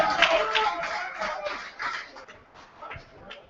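Crowd applause breaks out at a Workington rugby league match against Featherstone, a broad wash of clapping that swells loud at first, then thins and fades over a few seconds.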